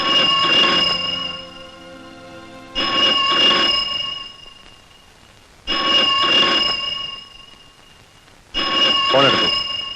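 A telephone in an Indian film scene rings in three bursts of bell-like trilling, each lasting about three seconds with short gaps, loud and close, with a faint hum between rings.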